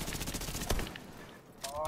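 Rapid gunfire crackles in a Dark Zone PvP fight in The Division 2, with dense bursts in the first half that thin out and fade, followed by a brief sharper burst near the end.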